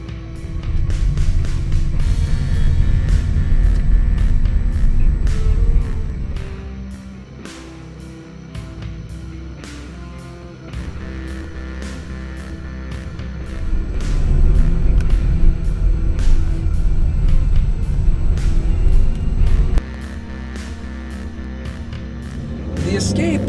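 A 2013 Ford Escape SE 4WD with a 2.0L EcoBoost engine drives a snowy road near Big Bear, giving a steady low road and engine rumble that dips briefly and swells again, with faint talk in the cabin.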